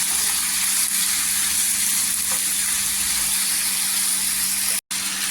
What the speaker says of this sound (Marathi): दोन मिनिटासाठी तेलावर अशी परतून घ्यायची